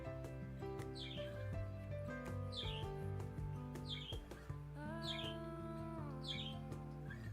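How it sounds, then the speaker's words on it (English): Small parakeet chirping in repeated short bursts, roughly once a second, over steady music with sustained tones; the chirps sit in the background. "She's a little parakeet."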